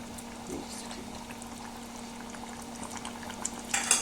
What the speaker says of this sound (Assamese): দহ মিনিট এইদৰে উতল আহিলে